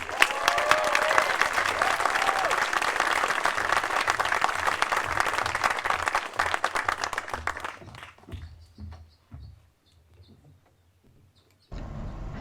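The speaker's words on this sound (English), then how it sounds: "Please give him a round of applause nonetheless" A crowd at a high school graduation applauds loudly for several seconds, then the clapping thins to a few scattered claps and fades out.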